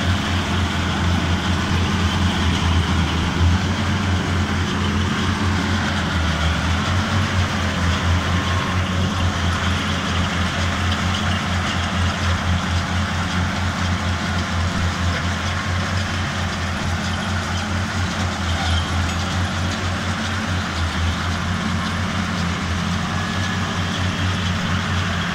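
A Feraboli 265 Extreme round baler runs off a tractor's PTO at 540 rpm, giving a constant droning engine and machinery hum that stays loud and even throughout without pauses.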